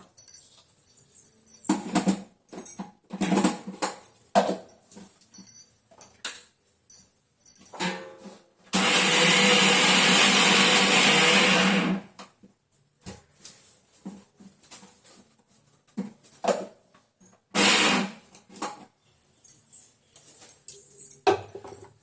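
A mixer grinder coarsely grinds vadai batter for athikai vadai, a loud steady whirring burst lasting about three seconds. Quieter clattering handling noises come before and after it.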